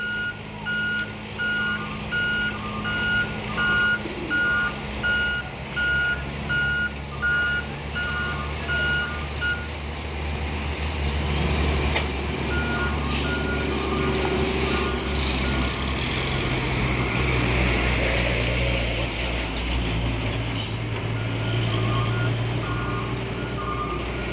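A Hino Ranger truck rolls back downhill after failing to climb, its reversing alarm beeping in a steady repeating rhythm over engine rumble and road noise for the first half, then fading beneath louder traffic and motor sounds.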